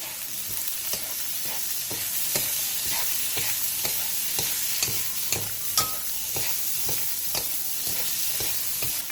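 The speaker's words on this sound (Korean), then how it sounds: "팬에 기름을 두른 뒤 애호박, 어묵, 다진 마늘 1스푼, 소금 4분의 1스푼을 넣고 센 불에서 2분 정도 볶아주세요" Zucchini, fish cake and minced garlic are stir-fried in oil over high heat in a pan. A constant hiss of frying runs throughout, broken by regular sharp scrapes and taps from the utensil, and no one speaks.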